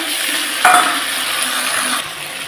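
Ginger, cumin and green chilli paste fries in a pan while being stirred, giving a steady close sizzle with a sharp scrape of the spoon partway through and no talking.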